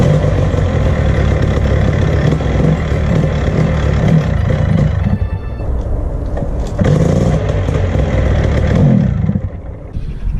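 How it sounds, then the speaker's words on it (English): Pull-started paramotor engine running close and loud, its steady throb sagging and bogging near the end as it threatens to die down. "first couple of pulls started right off the cuff, but it's bogging, dying down"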